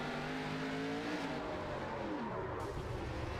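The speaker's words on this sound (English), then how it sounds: "He peels out of his pit stall. Spun the tires there." A race car at a memorial race event peels out of its pit stall, its engine revving and tires spinning; the roar is fairly distant and faint, with the pitch shifting as it pulls away.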